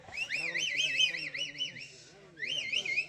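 Shrill warbling whistles ring out from spectators at a jallikattu bull-taming event, two wavering bursts separated by a short pause, loud over faint crowd murmur.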